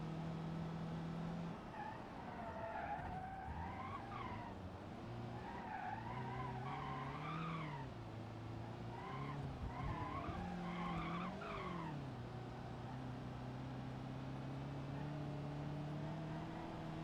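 In BeamNG.drive, a Gavril Vertex with an automatic gearbox and ESC turned off is driven hard. Its tires squeal in repeated wavering skids over a steady engine drone, and no one speaks.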